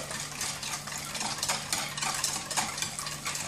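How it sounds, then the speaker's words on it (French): A whisk beats hot milk into beaten eggs in a bowl, making quick, rhythmic swishing and light clinking strokes, close and steady. "je vais mélanger le lait chaud au fouet aux œufs que j'ai battus dans le saladier"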